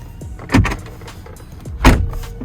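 Two solid thumps from a BMW iX electric SUV door being shut, close by and about a second apart, with faint mechanical whirring between them.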